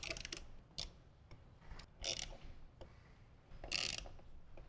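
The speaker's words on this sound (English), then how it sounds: "we're going to go ahead and finish torquing them down with a ratchet" A ratchet tightens factory bolts during a speaker and amplifier installation on a 2014-or-later Harley-Davidson, giving faint, sparse bursts of clicking heard alone.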